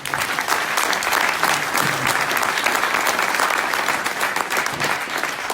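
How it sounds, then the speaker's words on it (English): Steady audience applause at a tech meetup talk, dense and even clapping sustained for several seconds without a break. "I think I deserve an applause, right?"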